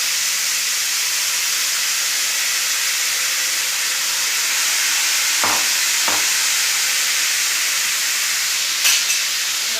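Chopped onion sautés in oil for chicken masala under a loud, even hiss and sizzle, broken by two short scraping stirs midway and another near the end, with no voices.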